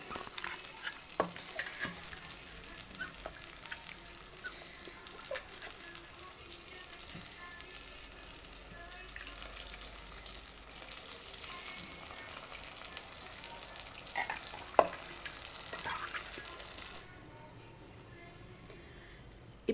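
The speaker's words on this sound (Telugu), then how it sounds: "ఇప్పుడు మనము చింతపండు పిసుక్కొని రసం తీసుకొని దాంట్లో పోసుకోవడమే." Tamarind juice goes into a pan of simmering tamarind stew, followed by steady stirring and a soft, continuous sizzle close by, with a few clinks of a spoon against the pan.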